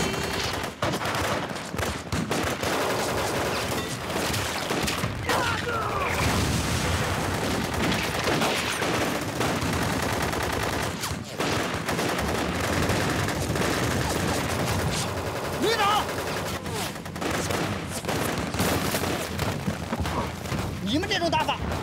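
Battle scene from an anti-Japanese war film: dense, continuous gunfire with rapid machine-gun bursts, single rifle shots and heavy booms, loud throughout, with occasional shouted voices mixed in.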